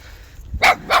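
A mother dog with puppies barks twice, short loud close yelps a fraction of a second apart after a quiet start.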